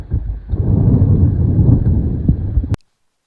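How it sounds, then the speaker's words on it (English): Strong wind buffets the microphone in a loud, steady low roar with gusty swells, cutting off abruptly near the end. "It's windy as heck."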